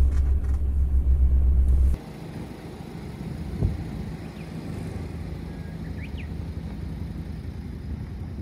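Engine noise from a family car on a road trip in Chiba, Japan, starts as a loud idle rumble, then drops to a steady moderate road drone with a brief thump partway through and no talk.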